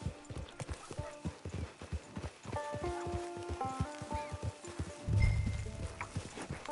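Horse hooves clip-clopping at a steady walking rhythm in the Red Dead Redemption 2 video game, close and distinct, with a brief snort or whinny-like sound near the end and soft game ambience underneath.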